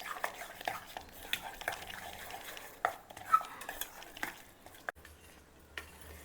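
Soaked jowar poha and ragi dosa batter is mixed by hand in a bowl, giving soft, irregular wet squelches and occasional clinks of utensils, quiet and close.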